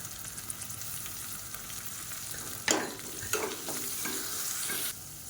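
Onion, ginger garlic paste, green chillies and mint sautéing in a pan for a pulao: a steady close sizzle with several scraping stirs of a spoon, no voices.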